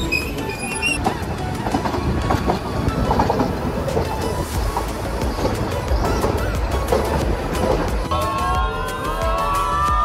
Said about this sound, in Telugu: ఇది వన్ డే టాయ్ ట్రైన్, ఇది వేరే ట్రైన్ అనమాట.